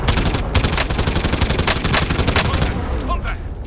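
Dense, loud rapid-fire automatic gunfire from enemies in Call of Duty Modern Warfare rattles continuously for a few seconds, close and sustained before tapering off, with a player's voice speaking over it.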